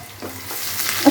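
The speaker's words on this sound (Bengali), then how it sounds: "দিয়ে দিই রসুন পেঁয়াজ কাঁচামরিচ" Loud, continuous sizzling of garlic, onion and green chilli frying in hot oil, with light stirring sounds.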